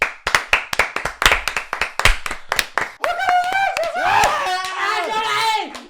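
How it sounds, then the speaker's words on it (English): A small group claps in a brief, uneven round of applause for a half marathon runner on a podcast, sharp close hand claps for about three seconds, then cheering voices and laughter take over. "Let's give a round of applause."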